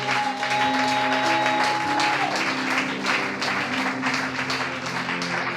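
A church congregation applauds the word of God, with steady dense clapping that stays loud throughout and a sustained sung or organ-like tone held underneath.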